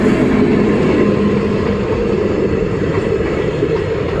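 A passenger train rumbles loudly past a level crossing, a dense steady roar of wheels and wagons close by with no voices.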